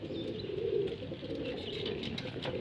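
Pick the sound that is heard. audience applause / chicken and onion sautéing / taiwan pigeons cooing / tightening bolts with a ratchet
taiwan pigeons cooing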